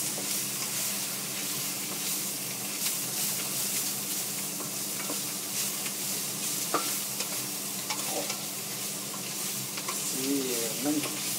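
Veal strips in a lemony Zurich-style sauce sizzle loudly and steadily in a wok while being stirred, with occasional scraping and clinking of the utensil against the pan.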